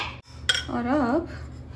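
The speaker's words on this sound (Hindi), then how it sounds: "इसे अच्छे से करेंगे मिक्स." Spoon stirring kadi batter in a bowl, with a sharp clink against the rim followed by a scraping swirl, close and clear.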